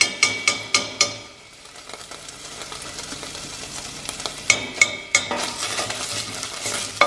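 Chopped garlic and tomato paste sauté in a soup pot for a Slovenian bean soup, giving a steady sizzle broken by sharp clacks of a spoon stirring against the pot at the start and again near the end.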